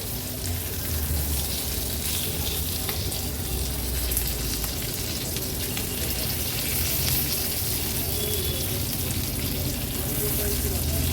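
Steady oily sizzling of green chilies frying in a pan, loud and continuous throughout with no pauses, no voices present.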